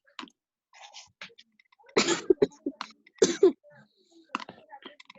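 Two sharp, explosive sneezes close by, separated by about a second, with quieter breathy and mouth noises scattered around them.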